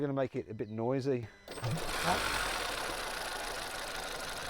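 After a brief spoken remark, a Volkswagen Tayron's 1.5-litre, 150-horsepower petrol engine starts and settles into a steady idle, a continuous mid-pitched hum with a faint mechanical clatter.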